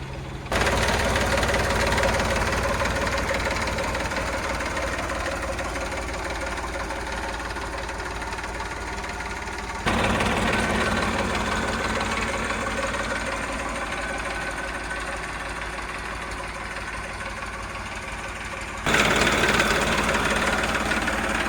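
An Eicher 333 tractor engine idles steadily nearby, with a loud, even low-pitched chug that runs without a break through three continuous segments and has no talk over it.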